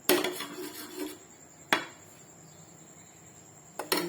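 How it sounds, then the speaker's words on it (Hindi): Eggs being beaten in a bowl for a KFC-style crispy fried chicken wing batter: short bursts of utensil clinking against the bowl, a rapid cluster at first, then a single knock and a final flurry, fairly close with quiet pauses between. "ये अंडे को हम जी फेंटते हैं"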